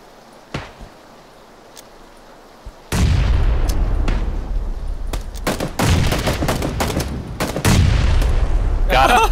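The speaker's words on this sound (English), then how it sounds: "I'm chucking grenades" Grenades explode in PUBG gameplay, heavy booms and rapid blasts with gunfire that keep going after a quiet opening with a few faint pops. Loud and close, with some talk under the noise.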